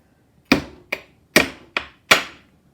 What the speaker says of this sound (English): I just want to hit something with a hammer one more time, and I got to bend these little tabs over